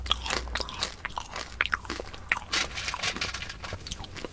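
Crunchy caramel popcorn is bitten and chewed right up close, giving dense crisp crackles in an irregular rapid rhythm with soft squishy moments between crunches.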